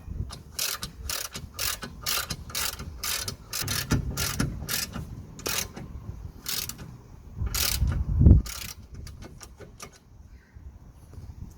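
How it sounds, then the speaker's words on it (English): A ratchet wrench works a 17mm nut on the track rod end of a Mitsubishi Outlander, giving rapid bursts of close, sharp clicking in uneven runs with some metallic knocks. "we're gonna remove this 17mm nut here on the actual track rod end"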